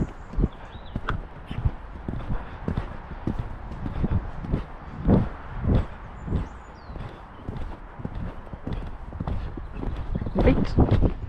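A horse's hooves clop steadily across the ground during a jumping exercise, with a firm rhythmic beat and occasional heavier thuds, while a person talks over the footfalls at moderate distance.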